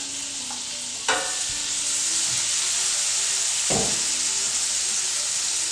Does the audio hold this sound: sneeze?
no